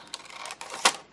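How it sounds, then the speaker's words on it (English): Scissors cut through paper for junk journal signatures, making a few quick, crisp snips close by with no other sound. "So I've just been cutting everything with my scissors."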